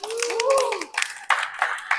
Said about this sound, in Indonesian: Tepuk tangan buat Nadira dong